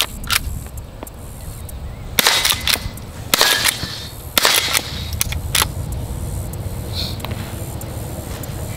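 A small single-shot youth rifle fires several sharp cracks, each a brief broadband burst standing out from quiet outdoor background, spaced irregularly.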